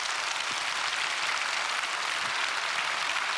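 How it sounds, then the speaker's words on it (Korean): Broadband, steady clapping from a church congregation, dense and continuous throughout with no voices standing out, a uniform wash of many hands at moderate loudness. "하나님께 영광의 큰 박수 합시다"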